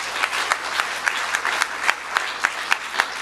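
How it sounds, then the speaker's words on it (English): An audience at an educator award event applauds with brisk, dense clapping that continues steadily throughout the short stretch. "So how about a round of applause for Suchith,"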